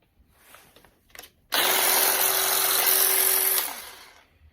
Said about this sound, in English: Little edge trimmer.